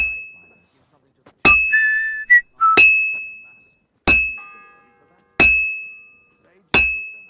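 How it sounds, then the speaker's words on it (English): In Kingdom Come: Deliverance II, a metallic bell strikes five sharp times at an uneven pace, each ring decaying into quiet, while a brief whistled tone sounds between the early strikes. "The first bell."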